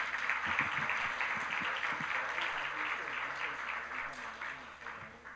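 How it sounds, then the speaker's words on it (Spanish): Applause from an audience at a livestreamed Spanish-language event, a steady wash of clapping for the full length at moderate level, with a few louder individual claps near the start and end. "Un fuerte aplauso para él, por favor."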